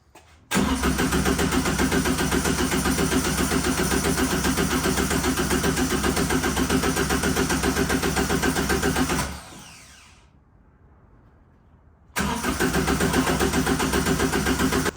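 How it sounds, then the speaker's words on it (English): A Subaru engine in a Porsche 911 replica cranks steadily and rhythmically without catching, turned over only to build oil pressure, pauses for a couple of seconds, then starts cranking again, loud and close. "turn the car over and get some oil pressure up, but not let it fire up just yet"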